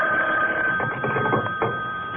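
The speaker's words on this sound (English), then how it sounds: "the phone rang." Telephone ringing in a radio drama, a steady electronic tone held throughout with faint noises beneath it, heard alone without talk.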